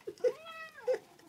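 A single drawn-out cat meow, fairly close and clear, rising then falling over about a second, with short soft sounds just before and after it.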